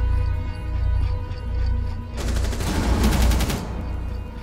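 Gunfire rattles in Rainbow Six Siege during an Oregon team deathmatch on the Secure Area mode: a loud, rapid automatic burst of about a second and a half over a low rumbling game backdrop, with no talk.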